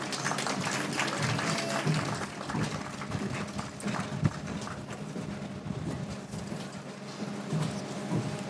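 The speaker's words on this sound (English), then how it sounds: "Let's give these ladies a big round of applause." An audience gives a round of applause to a lineup of contestants at the 2023 Rice Festival beauty pageant, a dense, steady crackle of clapping that carries on evenly throughout.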